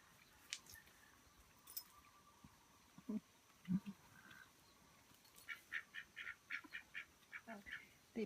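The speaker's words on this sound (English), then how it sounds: "They're Swedish runner ducks." Swedish runner ducks on a small free-range farm give scattered quacks, sparse at first and then a quicker run of short calls toward the end, faint and somewhat distant over low outdoor background noise.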